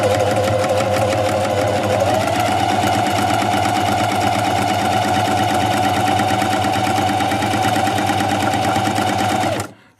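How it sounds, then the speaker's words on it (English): A Singer sewing machine stitches a buttonhole with a loud, fast, steady mechanical whir and rattle that runs evenly, shifts slightly in pitch early on, then stops abruptly at the end. "that starts to tell your machine that you're going to sew a buttonhole"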